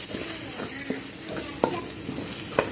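Ginger garlic paste sautés in a pan with chili powder, a dense steady sizzle with sharp scraping stirs of a spoon against metal, close and without any voice.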